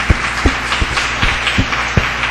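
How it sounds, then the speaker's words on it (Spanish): A church congregation at a Fe y Poder service in Guadalajara applauds the Lord, dense steady clapping filling the room with a few sharper, louder claps standing out at a loose, regular pace. "Denle un fuerte aplauso al Señor."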